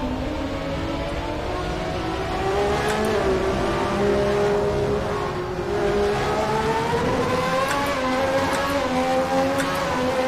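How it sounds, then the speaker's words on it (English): A high-revving V12 Formula One racing engine in a racing video game at Silverstone drones steadily, its pitch rising and falling slightly as it holds a loud, continuous whine. "You like the V12 sound?"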